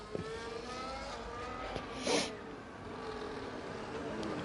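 F1 24 race cars run side by side through a chicane, their engines whining at high revs with a brief sharp surge as one passes close by, otherwise a steady, fairly distant drone, with no talk.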